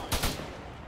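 Two sharp rifle shots crack in quick succession during an ArmA 3 combined-arms infantry fight, followed by a fading echoing tail under a steady ambient bed.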